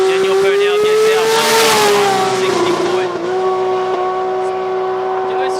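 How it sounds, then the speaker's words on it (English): A Holden Commodore VH drag car at a radial drag race, its engine loud and close, revving up and dropping off in an uneven on-off pattern with a brief dip midway. "You could hear the car on and off, a little bit on and off the revs there"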